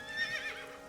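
A short, mid-loud horse whinny rises and falls over just under a second in the AI: The Somnium Files game, with no talking.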